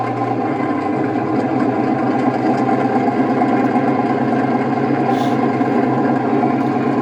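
A 1/16 scale RC Jagdpanther tank's simulated engine running steadily after start-up, a constant droning idle hum with a fixed pitch and no change in level.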